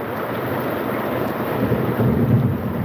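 Heavy monsoon downpour in Latur, a dense, steady roar of rain that swells slightly toward the end, with a low rumbling undertone of thunder and wind buffeting the microphone.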